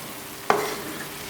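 Three green chilies dropped into frying keema set off a sudden sharp sizzle that flares loudly and then fades over about half a second against a low background hiss, with no voices.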